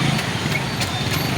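Horse hooves clip-clop in a steady rhythm on a street outside, with a faint engine idling in the background.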